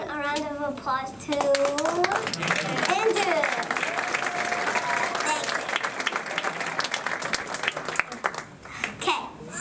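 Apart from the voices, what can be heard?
audience applause at a magic club show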